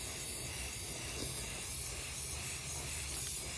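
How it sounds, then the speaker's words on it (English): Regular black spray paint hissing steadily from an aerosol can onto a rusty 70-year-old farm truck during restoration, a continuous quiet spray with no talk. "I'm just gonna take some regular black spray paint and shoot it on over it."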